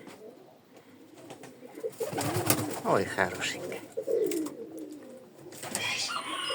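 A pigeon cooing near its nest in low, rolling throaty calls, fairly close, with a person speaking softly over part of it.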